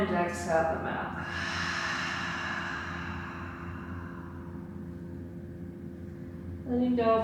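A long, deep exhale out through the mouth during a yoga breathing practice, a steady breathy rush lasting several seconds, with brief voiced sounds at the start and end.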